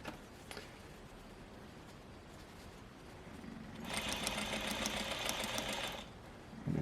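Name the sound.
sewing machine sewing kick pleat of skirt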